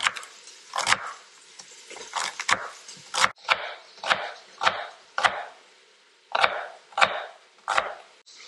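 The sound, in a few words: chopping celery with a knife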